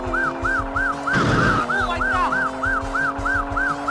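A police car siren wails in the arcade racing game Chase HQ, its steady repeating two-tone cycle sounding loud and close over a droning engine, with a brief crash burst partway through.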